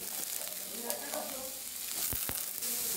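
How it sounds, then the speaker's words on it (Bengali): Chopped vegetables drop into a hot pan with peanuts and begin frying, a steady sizzle carrying through with a couple of sharp bursts near the end, close and moderately loud. "এবার ভেজিটেবলসগুলো দিয়ে দিচ্ছি।"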